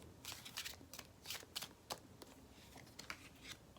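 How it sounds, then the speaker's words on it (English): Tarot cards being shuffled by hand, a quick run of crisp riffling and flicking bursts close by, with brief pauses between and no talking. "as I was shuffling"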